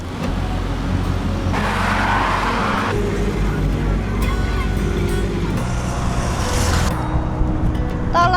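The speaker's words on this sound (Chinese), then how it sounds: "啊，我们的车来了" A city bus in Johor Bahru pulls up to a stop, its engine rumbling loud and close with a hiss of brakes and air, over street traffic noise.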